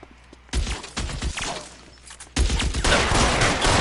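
Gunshots in the 1940s crime game L.A. Noire, a sharp volley of shots followed by a second heavier burst of rapid fire, loud and close with no talk.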